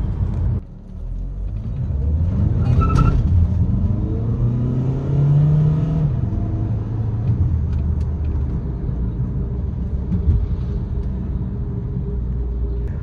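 Volkswagen Jetta 2.0 Highline with a DSG automatic gearbox accelerating, a steady mid-level engine rumble that rises in pitch as it builds speed, heard from inside the car with no talk.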